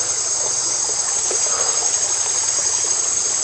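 A creek in the Costa Rican rainforest flows with a steady, soft trickle that runs evenly throughout, under a constant high hum of insects.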